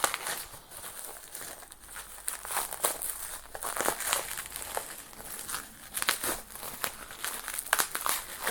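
Packaging around a PS1 game is torn and pulled open, a close, continuous crinkling and ripping of plastic with irregular louder tugs and no voices over it.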